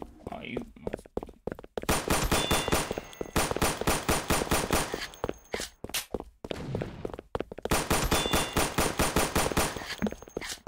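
Rapid, evenly spaced gunfire from a Beretta and a double-barrel shotgun in the Roblox game comes in two long sustained bursts with short single shots between them, loud and close, with a voice speaking over parts of it.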